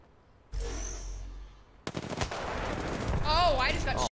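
Bursts of gunfire hitting the player in the battle royale video game Apex Legends, a rapid crackling volley rising to loud, dense shots near the end, after a brief sustained rumble.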